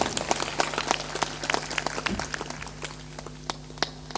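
An audience at a religious satsang gathering claps in a dense, steady patter of applause that gradually thins and softens, with a faint sustained tone underneath.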